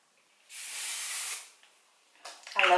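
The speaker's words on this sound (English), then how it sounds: "I'm just going to take my heat protectant spray and spray" Heat protectant spray hisses onto hair in one close, steady burst lasting about a second, then fades into quieter rustling and a brief sharper sound near the end.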